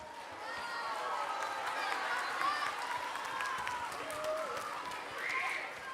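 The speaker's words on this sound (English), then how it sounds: "please give a special round of applause for our last-minute pianist, Mrs. Kathy Crosby, my mother." An audience at a grades 6-8 school orchestra fall concert applauds steadily, a dense wash of clapping with some cheering, loud and sustained throughout.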